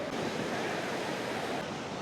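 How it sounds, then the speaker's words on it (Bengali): Rough sea waves on Puri beach, a dense steady roar of surf washing in without a break, broad and moderately loud, with slight wind noise. "সমুদ্রের ঢেউ একবার লক্ষ্য করুন, কি প্রবল, কি উত্তাল বেগে ঢেউ আসছে"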